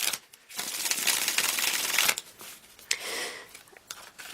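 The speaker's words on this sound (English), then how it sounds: "A few more shuffles." Tarot cards are shuffled close by in two bursts of crisp riffling and flicking, with short quiet gaps between them.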